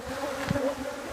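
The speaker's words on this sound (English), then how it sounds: "Bees, baby bees." Bees buzzing in a hive tucked inside the wall of a 5th wheel trailer, a steady close drone with a brief louder swell partway through.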